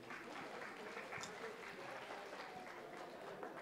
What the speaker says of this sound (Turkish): Bu güzel alkışlar sizlere gelsin.